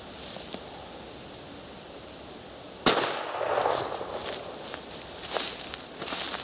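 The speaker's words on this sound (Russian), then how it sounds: "Сейчас мы второй раз выстрелим." An MC 21-12 shotgun fires a Clever cartridge outdoors, one sharp loud report near the middle, then a short echo tail, with faint rustling and footsteps on either side of the shot.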